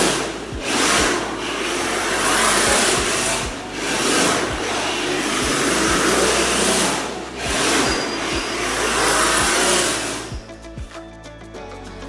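A small RC drift car's motor whines continuously while drifting a figure 8, loud and close, with a grinding hum that swells and dips through the turns before trailing off at the end.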